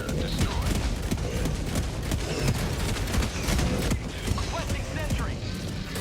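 Sustained, dense automatic gunfire from a sentry gun in the Helldivers 2 video game fighting Terminids, with rapid overlapping shots and booms that keep a loud, steady barrage going throughout.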